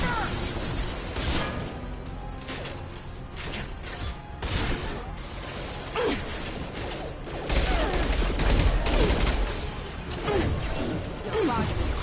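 Mass Effect 2 combat: scattered gunshots, crashes and bursts of weapon fire at moderate volume, swelling louder toward the end, mixed with other battle noise.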